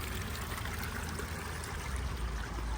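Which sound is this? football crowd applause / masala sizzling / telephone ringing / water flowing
water flowing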